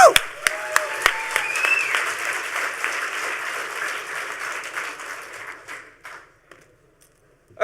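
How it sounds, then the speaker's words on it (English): Audience applause at a hacker conference talk, starting with a few sharp claps and swelling into steady crowd clapping before fading out near the end. "Huge round of applause this time."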